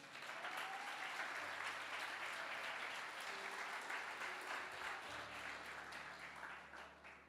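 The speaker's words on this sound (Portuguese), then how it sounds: "Se você entendeu, aplauda Jesus aí." A church congregation claps throughout, giving a thick, continuous applause that holds steady for several seconds, soft and somewhat distant, before tapering slightly at the end, while a low hum sits beneath it.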